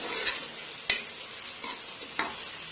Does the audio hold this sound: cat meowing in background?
no